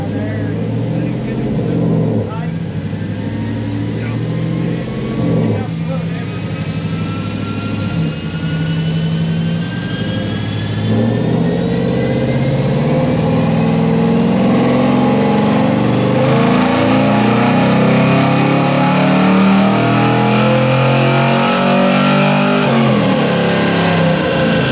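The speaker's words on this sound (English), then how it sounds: "We're literally gonna strap it on the dyno, put a wideband on it, and then just see what it does." A car with a 6L80E automatic transmission revs on a chassis dyno, engine note climbing steadily through the gears, loud and continuous, with people talking over it.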